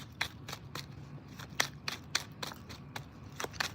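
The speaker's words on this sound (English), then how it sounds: "One more shuffle." Tarot cards being shuffled by hand, a run of crisp, quick riffling bursts repeated at an uneven rhythm, close and fairly quiet, with no talking.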